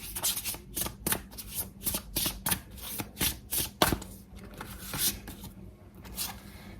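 Tarot cards being shuffled and drawn give close, soft riffling bursts in a quick repeating rhythm, with a few crisper snaps as cards slide and settle, then quieter rustling at the end.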